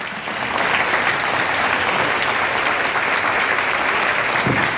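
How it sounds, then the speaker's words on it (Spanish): An audience at the close of a ufology congress in Victoria, Entre Ríos, bursts into sustained applause, a steady, dense roar of clapping filling the hall, loud and continuous with no speech over it. "Fuerte el aplauso para todo el equipo de Fénix 4, felicitaciones."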